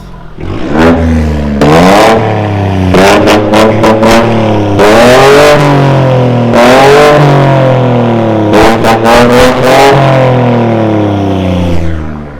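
A BMW F44 218 with an active M carbon valved exhaust in loud mode revs loudly again and again outdoors, sharp exhaust bursts rising and dropping in pitch with pops and crackles between the revs.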